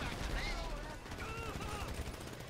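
Gunfire in GTA 5 during a heist, bursts of rapid shots and mechanical clatter mixed under excited players talking over one another.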